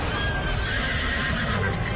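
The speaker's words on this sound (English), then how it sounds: "She's got a horse! She's got a Pegasus!" A winged horse in the anime film Fate/stay night: Heaven's Feel III lets out a loud, close neigh that carries across the whole short moment, with faint hoof-like clatter beneath.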